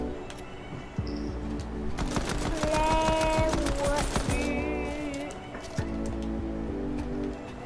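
Pistol fire in a Fortnite match comes as rapid clusters of sharp cracks mixed with clattering game effects and pickup chimes, fairly loud and busy throughout.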